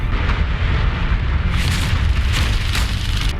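Railgun firing in a space battle from the series The Expanse, a loud, dense roaring blast that holds steady throughout without letting up.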